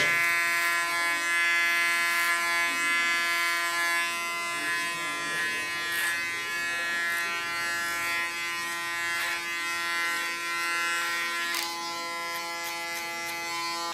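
A small electric hair clipper tidying the contour of a haircut, giving a loud, steady high-pitched buzz that runs throughout, with brief scraping touches against hair and skin and no talking.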